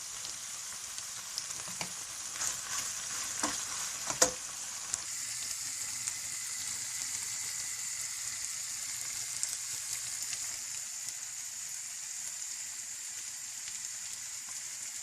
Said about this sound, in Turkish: Şöyle kremamı da ilave edip güzelce karıştırıyorum.